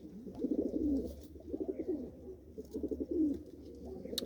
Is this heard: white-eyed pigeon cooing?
yes